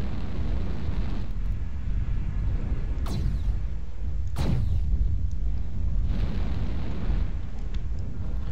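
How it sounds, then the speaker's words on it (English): Artillery shells land in the MechWarrior Online mech-combat game: two heavy booming impacts a little over a second apart, with sharp whooshing onsets, over a constant loud rumble of battlefield noise. "Artillery strike"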